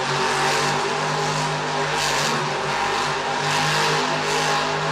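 A monster truck at a stadium Monster Jam event spins donuts, its engine roaring loud and continuous with rhythmic swells of revving, with no talk over it.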